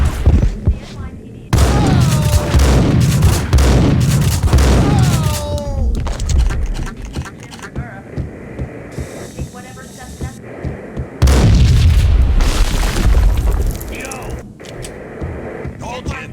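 Gunfire and explosions from the Max Payne video game: sharp shots and heavy booms ring out in loud bursts, with voices speaking between and over the blasts.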